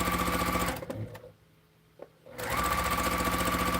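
A quilting sewing machine stitches in a loud, steady run, stops for about a second of near silence, then resumes stitching at the same fast, even pace.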